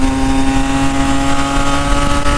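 A motorcycle engine drones loud and constant during a ride, its steady buzzing hum close and continuous with wind noise underneath.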